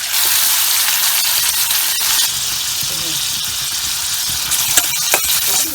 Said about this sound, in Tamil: அடுத்து எண்ணெய் கொஞ்சம் சுட்ட உடனே கருவாடை போடணும்.